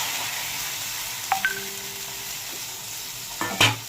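Water mixed with chili powder, cumin, turmeric and salt goes into a hot frying pan for a light pabda fish curry, giving an even steady hiss with a few small clinks and a brief utensil knock near the end.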